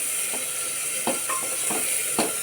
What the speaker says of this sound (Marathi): कांदा परतून घेऊया गॅसची फ्लेम मिडियम करायची आपल्याला मिडियम गॅसवर आपल्याला परतून घ्यायचं आहे